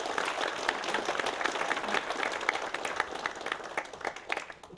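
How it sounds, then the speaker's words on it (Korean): A crowd at a broadcaster's 50th anniversary ceremony in Chuncheon claps together, a dense, fairly distant round of applause with crisp individual claps that slowly dies away. "박수 한번 보내주실까요?"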